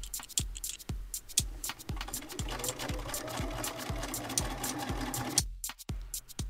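Sewing machine top-stitching the hem of jeans, a steady run of close, loud needle strokes with a brief pause near the end.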